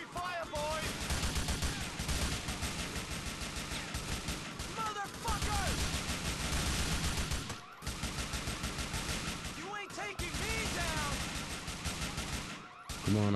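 Dense, sustained gunfire from the video game GTA 4, rapid automatic bursts and shots layered over each other almost without a break, loud and continuous.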